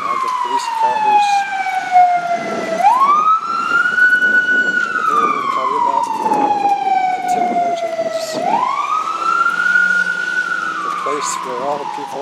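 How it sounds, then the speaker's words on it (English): Police car sirens wail at night on a Toronto street, loud and near, with the tone sweeping up and down in long slow cycles over city traffic noise and some talk. "the police cars."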